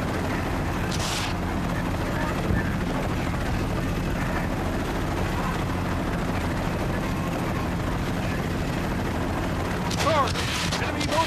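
A helicopter flies in the video game Battlefield: Bad Company with a steady whirring rotor drone throughout, mixed with distant booms, and voices talking over it.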